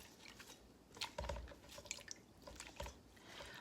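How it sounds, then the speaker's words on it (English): Water drips and splashes faintly at a sink while celery is washed, with scattered close drops and small trickles at an uneven rhythm, no talking. "Wash my celery."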